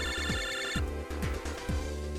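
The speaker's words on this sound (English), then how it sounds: "Phone is ringing, Mega Man." A ringing phone in the Nintendo DS game Mega Man Battle Network 5: Double Team, a repeating electronic ring tone pulsing several times over game music and effects, with no talking.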